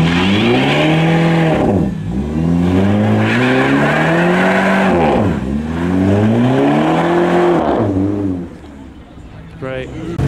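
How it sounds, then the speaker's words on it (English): A diesel BMW does a burnout in a car park, its engine revving hard in loud, sweeping surges with tire squeal, close by. The noise drops near the end as a voice briefly comes in. "There's a diesel BMW doing a burnout in the car park."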